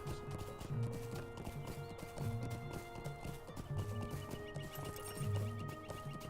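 Horse hooves clip-clop in steady repeated bursts in the online game Lord of the Rings Online, with occasional whinnies over a constant ambient game soundscape; no one speaks.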